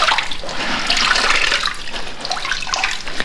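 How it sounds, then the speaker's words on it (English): Water splashing and dripping from wet linen being lifted out of a soda ash soak and wrung by hand, a steady close trickle and spatter running continuously with no talk. "Just lift them out and wring them out a bit so that they're not dripping water everywhere."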